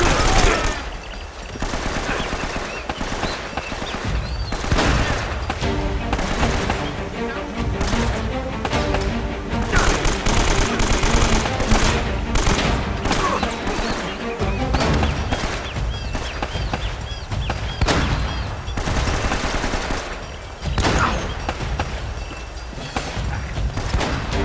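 Loud, dense video game combat in Uncharted, with repeated heavy shotgun blasts mixed into a continuous barrage of gunfire over roughly twenty seconds, and some talking in places.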